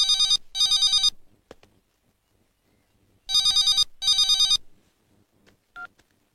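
A telephone rings in two pairs of loud electronic trills separated by a pause, with faint clicks and a short tone in the quiet gaps.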